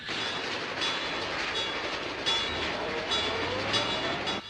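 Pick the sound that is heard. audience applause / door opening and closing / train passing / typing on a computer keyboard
train passing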